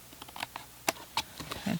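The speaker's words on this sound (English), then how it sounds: "I'm just going to come in with my scissors." Scissors snip and trim cardstock during layered greeting card making, giving a few short, quiet, irregular crisp cuts and rustles, close and alone.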